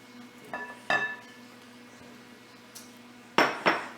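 Potatoes added to a dish of sauce for a loaded potato and buffalo chicken bake, a few separate clinks and knocks against the dish with quiet pauses between.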